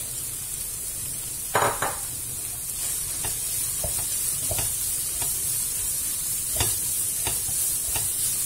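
Bolognese sauce for lasagne sautéing in a pan, a constant soft sizzle broken by scattered clicks and scrapes of a stirring utensil, with no voices.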